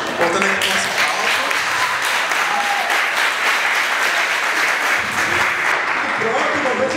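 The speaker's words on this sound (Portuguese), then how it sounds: "Voltando aqui com as palmas." Studio audience at a SuperStar talent show breaks into sustained, dense applause that fills the whole stretch at steady loudness, with a few faint voices underneath.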